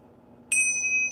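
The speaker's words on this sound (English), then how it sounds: "this is a Chinese tingsha" A Chinese-style tingsha cymbal bell is struck once, giving a sudden bright, clear ring with pure high tones that sustain and slowly fade over a quiet low hum.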